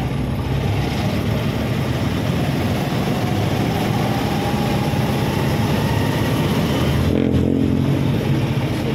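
Steady road traffic rumbles close by on a hot, congested road, a constant low drone of car and heavy engines idling and creeping along, with a brief louder swell near the end and no talk.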